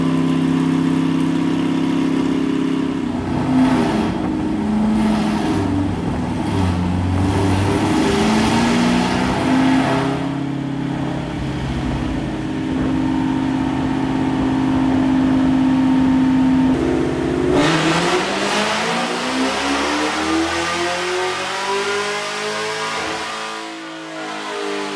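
A 2022 Camaro engine runs steadily near at idle, with its pitch rising and falling as it revs up in stretches, then settling into a lower, rougher idle toward the end; no talk.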